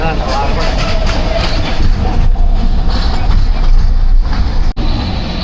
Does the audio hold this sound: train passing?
yes